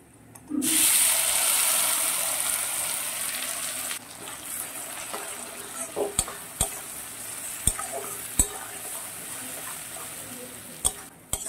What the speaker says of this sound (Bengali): এবারে শাকটাকে আমি আস্তে আস্তে নেড়ে নেড়ে এটাকে রান্না করব